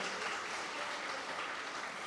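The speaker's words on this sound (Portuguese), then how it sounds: "pode aplaudir, olha que tremendo" A church congregation applauds during a sermon, soft and fairly distant clapping forming a steady wash for a couple of seconds.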